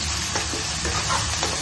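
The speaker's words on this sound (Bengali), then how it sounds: "এবার এর মধ্যে আমি দিয়ে দিচ্ছি একটুখানি সাদা জিরে, দিয়ে দিলাম পেঁয়াজ কুচি।" White cumin and chopped onion frying in very hot oil for palak paneer, a loud steady sizzle close up with faint stirring scrapes, no voices.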